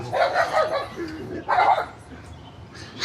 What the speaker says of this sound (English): I don't know if bringing my dog was smart for the podcast